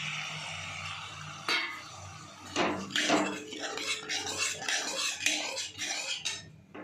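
A utensil stirs prawns into a curry broth in a metal pot. It makes a series of soft, irregular clinks and scrapes with gentle liquid swishing, close and quiet.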